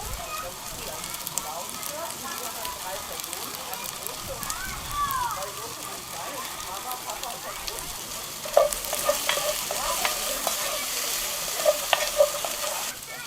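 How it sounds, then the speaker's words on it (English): Chestnuts and sugar caramelize in a pan with a soft, quiet sizzle, broken by scattered scraping and clicking of stirring that grows busier in the second half. "About a minute later, we're going to add the sugar and let that caramelize"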